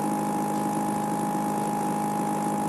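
A CNC machine's Z-axis stepper motor, driven at 1/16 microstepping, moves slowly and gives a steady, even mid-pitched whine with a tonal hum that holds unchanged throughout, with no talking.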